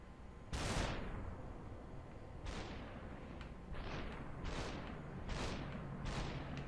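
Assault rifle gunfire in the video game Superhot: a sharp opening shot followed by five evenly spaced blasts, each with a ringing, falling tail, loud against a low background hum.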